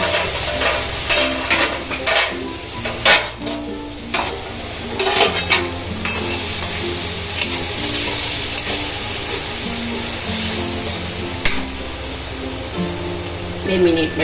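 Greens with turmeric sautéing in a pan, a continuous sizzle with repeated scraping and stirring strokes, close up, while a voice speaks intermittently over it.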